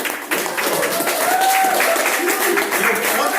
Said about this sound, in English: Another round of applause for Charlie.